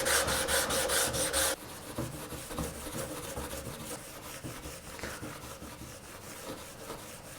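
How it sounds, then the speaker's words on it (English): Fine sanding of a Brazilian rosewood fingerboard with Stikit sandpaper at 220 and 400 grit, heard as steady close rasping strokes. A louder, brighter burst opens the passage, then the scratching continues more softly with no talk. "I'm going to fine sand this down to 220 and then 400 grit in the Stikit sandpaper"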